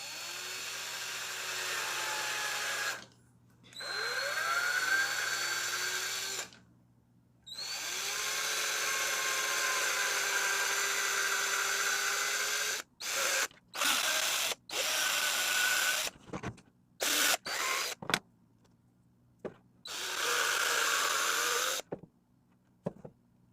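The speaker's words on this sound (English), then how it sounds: "I'm able to ream it, and it's actually removing quite a bit of material" Bursts of a small power drill reaming out a plastic 3D-printer extruder part, a high whining spin starting and stopping repeatedly, with short pauses and brief clicks between passes.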